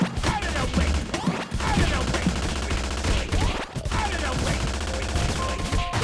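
Rapid gunfire bursts in the TMNT Shredder's Revenge video game, loud continuous volleys mixed with game music and effects, with brief dips between bursts.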